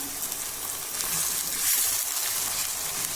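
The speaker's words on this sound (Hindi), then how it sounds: "अब हम इसमें चिकन ऐड कर देते हैं और इसको मीडियम फ्लेम के ऊपर तकरीबन हमने 5 से 7 मिनट तक इसको फ्राई करना है।" Chicken fries in a pan over a medium flame for achar gosht, giving a continuous, close, bright sizzle with a faint bubbling crackle and a few soft stirring bumps, no talking.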